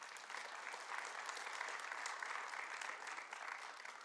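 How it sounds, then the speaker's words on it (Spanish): A church congregation applauds in a sustained, even wash of clapping that holds steady for about four seconds, moderately distant and with no voices rising above it. "Denle otro aplauso a Dios por eso."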